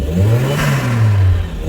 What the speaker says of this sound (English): let's see if we can get some spool up going on